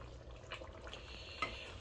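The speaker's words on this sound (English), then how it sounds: "we're gonna stir it up" A spoon scrapes and stirs jambalaya in a pot, faint soft scraping with a light sizzle and one brief metallic clink.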